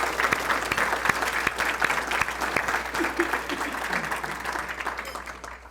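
An audience at a distinguished alumni awards dinner applauds honorees, a sustained round of clapping with distinct individual claps up front that gradually thins toward the end.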